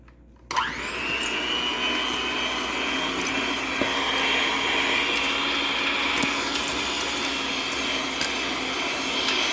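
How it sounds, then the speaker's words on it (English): An electric mixer creaming butter and sugar for a butter pecan cake switches on abruptly and whirs loudly and steadily up close, a high, even motor drone that holds without pause. "I'm going to start creaming this together"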